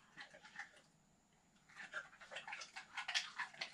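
Soft, rapid dog panting, quiet at first and growing busier and louder toward the end, with faint whimpery breaths close by.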